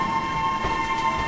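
A train sits at Gongliao railway station in Taiwan, giving off a steady rail rumble with a sustained whining tone, fairly loud and close, with no voices.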